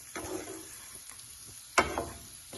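Diced Spam in hot oil in a pan for fried rice, tossed with a utensil: soft steady sizzling with a few scraping stirs and one sharp clatter near the end, close by and fairly quiet.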